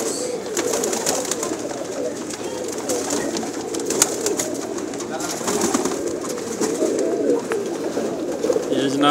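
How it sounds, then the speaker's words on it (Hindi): Many pigeons of assorted breeds cooing together in a crowded pigeon shop, a dense, continuous murmur of overlapping coos with some wing and background bustle, close and steady throughout. "बहुत तादाद में कबूतर हैं जी इनके पास माशाल्लाह, और हर नस्ल का कबूतर है।"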